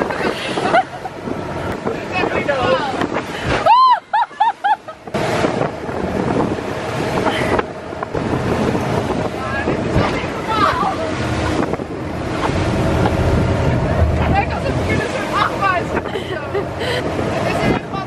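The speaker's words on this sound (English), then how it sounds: "it was so windy, the waves were so big" Strong wind and big waves at sea from aboard a boat, heavy wind buffeting the microphone over rushing, crashing water, loud and continuous, with voices talking at times.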